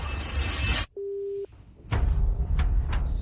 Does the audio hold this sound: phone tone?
yes